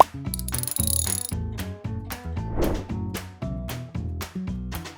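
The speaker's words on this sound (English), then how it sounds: "Finish off the tightening with a torque wrench." A torque wrench ratchets while tightening on a Peugeot 206 1.4 HDI during clutch and suspension work, giving a series of quick, close mechanical clicks in an uneven rhythm.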